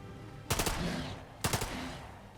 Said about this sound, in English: Just shoot the SMG here.